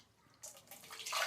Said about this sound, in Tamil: தேவையான அளவு நம்ம குழம்புக்கு தண்ணி ஊற்றிட்டு,